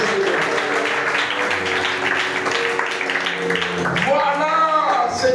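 A church congregation applauding and acclaiming the Lord: steady, dense clapping throughout, with a voice speaking over it and a sung or called-out phrase near the end.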